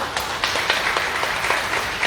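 Steady applause from a university lecture audience, a dense patter of many hands clapping at an even level throughout.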